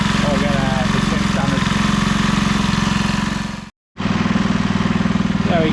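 A Briggs & Stratton 3hp four-stroke engine on a Masport rotary mower runs steadily close by, then cuts out abruptly, falls silent briefly and starts running again.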